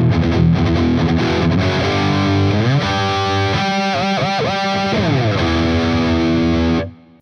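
A B.C. Rich Mockingbird Legacy ST electric guitar plays a riff through heavy distortion, loud driving chugs and sliding chords with wavering bends, then cuts off sharply at the end.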